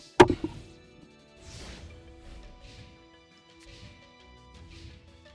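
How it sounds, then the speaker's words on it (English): A glass is set down on a table with a sharp, close clunk at the start, followed by faint, quiet rustling and background noise. "If me putting my glass down made a noise then"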